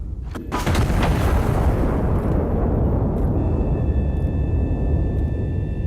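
Artillery gun firing a high explosive shell in the video game Iron Nest: a sharp close blast at the start that swells into a long, loud rumbling roar and lingers, with a faint steady tone underneath later.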